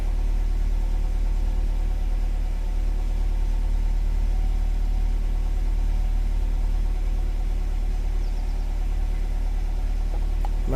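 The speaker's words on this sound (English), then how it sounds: "every time you scan the vehicle, the car stumbles on itself" A 2007 Toyota RAV4 engine with mass airflow circuit faults idles roughly and close by, a steady low rumble with faint uneven pulsing that suggests stumbling, running continuously without speech.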